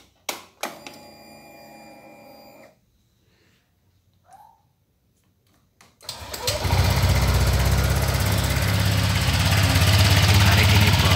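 A Honda Vario scooter engine starts up after a quiet stretch with faint background sounds, then runs loud and steady with a buzzing, rough drone close by for the last several seconds.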